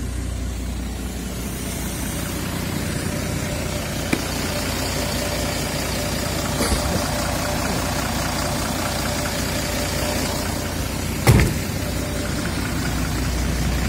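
Engine of a Euro 6 city bus idling steadily and close by, a continuous low rumble with a brief bump near the end, no talk over it.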